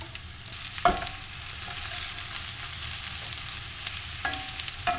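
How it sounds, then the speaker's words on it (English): Steady sizzling of onion and meat frying in a pan, with a couple of sharp clinks and scrapes of a utensil stirring partway through. "There we go. Sizzling, so it's ready."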